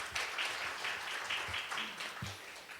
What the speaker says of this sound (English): Please give him another warm applause to him, please, to end our presentation.